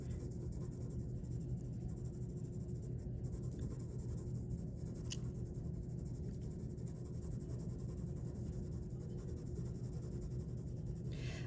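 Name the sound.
graphite pencil shading lightly on paper in small circles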